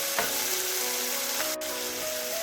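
Beetroot goes into a hot pan for a stir-fried mezhukkupuratti and crackles with a steady, close sizzle, along with a couple of faint knocks and a brief dip in the sound.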